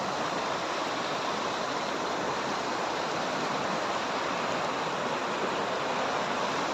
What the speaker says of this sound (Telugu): చూస్తున్నారా ఫ్రెండ్స్, ఎంతలా పొంగి పొరులుతుందో నీళ్ళు.